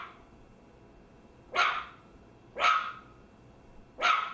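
A dog barks three times at a steady pace, each bark short, sharp and moderately close over faint background hiss.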